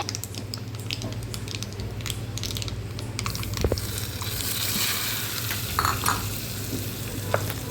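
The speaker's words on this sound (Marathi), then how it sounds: "चटणीचा तडका दिल्यावर मस्त आवाज येतो त्याचा" A hot tadka of tempering is poured into coconut chutney and sizzles loudly and steadily, with a few faint clicks and clinks of utensils. No voices are heard.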